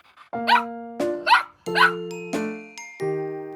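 A cartoon puppy barks in a children's animated Cinderella story, six bright, tonal yaps spaced about half a second apart, close and clear with no talk.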